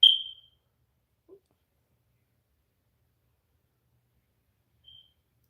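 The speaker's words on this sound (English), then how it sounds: "I need new smoke detectors." A household smoke detector lets out short, high, piercing chirps, one at the start and another faint one several seconds later, separated by near silence.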